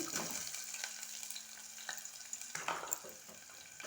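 Green chillies and onion pieces frying in hot oil with cumin, a quiet crackling sizzle with a few spoon taps and scrapes.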